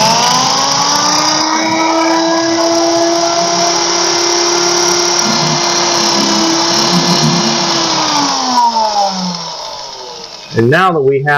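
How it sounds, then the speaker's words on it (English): A power drill whines steadily while boring holes in a Super Late Model ABC NextGen front bumper cover, loud and close for about eight seconds before spinning down, followed by a short burst of another sound. "we can just drill more holes"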